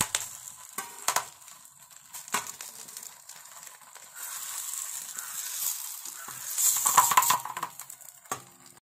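Fish fries on a banana leaf laid on a tawa, greased with a little oil, producing a hissing sizzle that swells and fades, mixed with a few scraping and clattering utensil knocks near the start.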